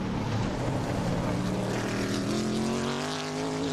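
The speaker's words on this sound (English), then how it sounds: "There you can see the horsepower of Adam's Burton Racing entry as he's able to stretch it out a little bit" Burton Racing race car engine at Virginia International Raceway, a loud continuous high-revving drone that climbs in pitch as it accelerates along the track.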